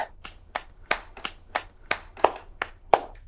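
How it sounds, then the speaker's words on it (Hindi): Slow, evenly spaced hand claps, about nine sharp distinct smacks over roughly three seconds, sounding close and alone in a quiet indoor scene from a TV comedy serial. "ताली बजा रहे हो?"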